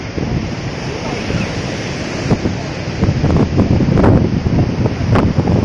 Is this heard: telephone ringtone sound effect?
no